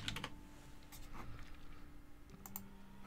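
Light typing on a computer keyboard, a quick cluster of soft key taps at the start and a few more scattered later, faint under a steady hum of room and computer noise.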